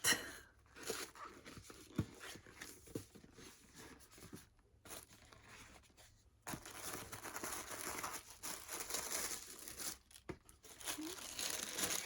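Tissue paper being unwrapped from an American Girl doll outfit box: soft, intermittent crinkling and rustling, close and fairly quiet, with brief pauses between handfuls of paper.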